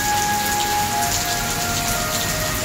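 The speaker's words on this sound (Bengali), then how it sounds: "দেখো কি পরিমাণে বৃষ্টি হচ্ছে।" Heavy rain pours down in Malaysia, a dense, unbroken wash of close, loud rainfall with a faint steady hum behind it and no voices.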